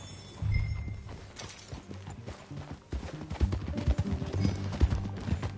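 Steady clip-clop of horse hooves at a walking pace in the video game Red Dead Redemption 2, fairly close, with a low rumble underneath and a brief whinny-like tone.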